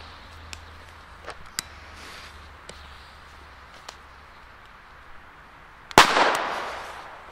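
Chinese firecrackers set off for New Year's Eve, a series of sharp isolated pops over a quiet background, ending with one much louder close bang that trails off in a crackling, rumbling decay.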